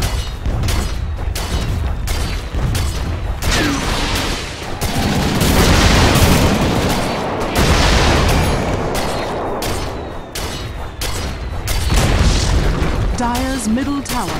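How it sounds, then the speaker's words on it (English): Dota 2 middle tower under attack and collapsing in a video game, with dense, loud booms and bursts of battle effects running continuously, swelling in the middle and near the end, with a game voice speaking briefly. "Dire's middle tower has fallen."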